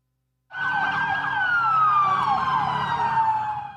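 Wailing police car and ambulance sirens start abruptly and hold loud and steady, the pitch sliding slowly downward, with traffic rumble underneath, at a school shooting scene on a Florida State University campus in Tallahassee.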